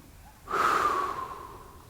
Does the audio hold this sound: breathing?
yes